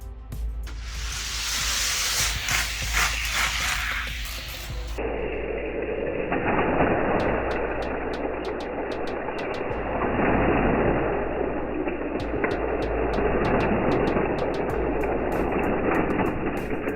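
Hot Wheels toy trains racing on a double triple loop track, giving a steady loud rumbling roar with rattling clicks throughout and no talking.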